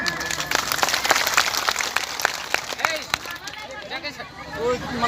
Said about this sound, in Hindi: इन अनशनकारियों को ताली बजाकर हौसला अफजाई करें